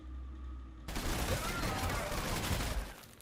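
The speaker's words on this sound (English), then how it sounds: "Yeah, and they're firing back." Enemy gunfire in the Warhammer 40K strategy game Sanctus Reach: after a quiet moment, a sudden dense burst of rattling fire roars in and carries on steadily, with a voice faintly audible beforehand.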